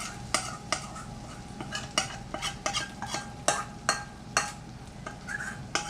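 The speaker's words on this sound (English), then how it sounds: "You'll hear it sizzle." Mexican cornbread batter poured into a hot skillet sizzles steadily, with repeated clinks and scrapes of a utensil against the pan rising over the frying hiss.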